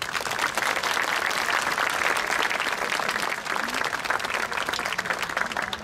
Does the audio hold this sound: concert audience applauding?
yes